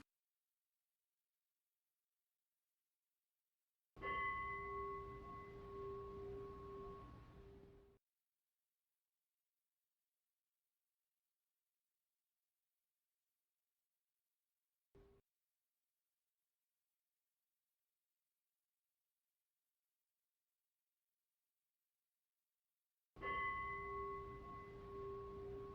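A meditation bell is struck to close a session, ringing out with a sustained, slowly fading tone; a brief tap sounds in the silent gap, then a second strike rings again in an otherwise quiet room.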